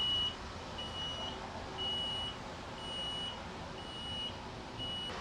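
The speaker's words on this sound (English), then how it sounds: "Just beeping." Repeated electronic beeps sound from equipment in a network server room full of racks, a short high tone recurring about once a second over a steady fan and machinery hum.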